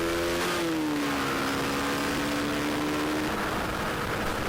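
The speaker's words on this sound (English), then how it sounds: "Into 2, firm acceleration up to the speed limit, which in this case is 45 miles an hour." A motorcycle in second gear accelerates firmly up to a 45 mph limit on a road, its engine note rising steadily and continuously, close and loud throughout, with no talk.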